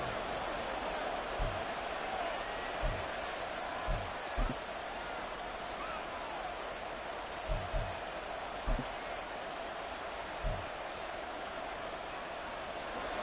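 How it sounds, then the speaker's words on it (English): Stadium crowd in a video game football match on third and inches, a constant broad hiss of distant massed noise, steady and moderately faint, punctuated by several soft low thumps spaced irregularly throughout. "this crowd trying to force a false start here"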